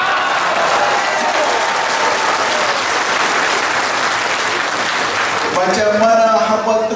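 A large Malaysian political audience in Bagan Datoh claps loudly and continuously, a thick even roar of hands that fades as a voice takes over in the final second.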